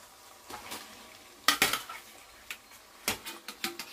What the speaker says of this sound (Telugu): ఇప్పుడు మనం చికెన్ వేసేసుకుందాం